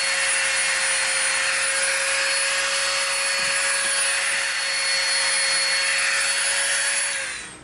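A rotary tool fitted with a skinny bit whines at a high, steady pitch while detailing EVA foam, close and continuous with no voices, tapering off at the end.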